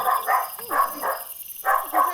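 Upstairs, a dog lets out three pairs of sharp barks, muffled and somewhat distant, with short pauses between each pair.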